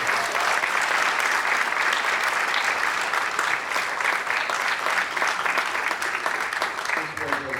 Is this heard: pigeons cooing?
no